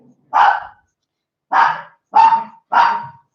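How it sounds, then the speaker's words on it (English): A dog barks four times indoors, loud and close: one bark, a pause, then three quick barks in a row. "You bark for a minute."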